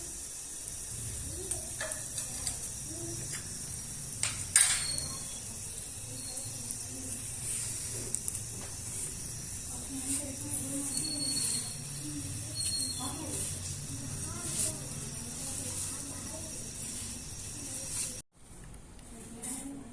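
Sewaiyan (vermicelli) roasting in a pan for a Persian mango zarda. A soft, continuous hiss carries scattered light scrapes and taps, then cuts out abruptly near the end.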